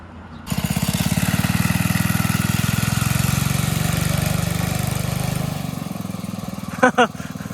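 An $80 go-kart engine runs loudly and steadily while the kart is driven, with a fast, even buzzing putter that fades near the end, followed by a couple of short sharp sounds.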